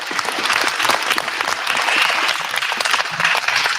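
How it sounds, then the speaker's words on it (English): A crowd at a community rally for Palestine breaks into dense, sustained applause, loud and close with steady clapping and no pauses throughout. "If we could please just give a quick round of applause for everyone who did show up today."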